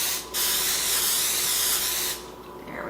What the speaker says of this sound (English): And then we're going to spray our plastic sheet top.